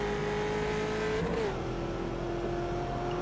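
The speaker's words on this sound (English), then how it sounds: "I can hear my tires and my engine now" A race car engine hums steadily in a Daytona racing video game, a sustained loud drone whose pitch dips slightly midway, with faint tire noise underneath.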